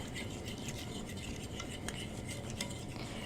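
A metal fork scrapes around the sides of a pan while food cooks, a continuous gritty rasp with a few brighter scratchy strokes, close and steady, no speech.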